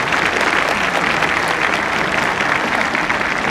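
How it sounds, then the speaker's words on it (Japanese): Steady applause from a racecourse crowd at a thoroughbred racehorse's retirement ceremony on Japan Cup day, a dense continuous patter of clapping at full loudness with no breaks. "皆様拍手をお送りください。"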